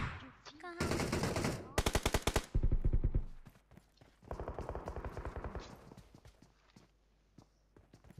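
Rapid bursts of shotgun and automatic gunfire in the PUBG Mobile battle royale game, loud close volleys in several dense clusters with brief pauses, over faint game background.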